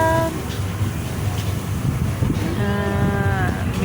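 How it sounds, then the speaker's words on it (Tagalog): Strong wind blowing outdoors beside a riverside food stall area, a steady loud rumble and buffeting across the microphone throughout, with faint tonal whines from nearby machinery in the background. "Sobrang hangin dito."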